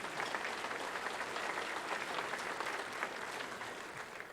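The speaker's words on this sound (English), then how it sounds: "a big round of applause for Tyler" Sustained applause from an audience at a softball hall of fame induction ceremony greets the evening's MC, a dense, steady clapping that fills the room for several seconds without letting up.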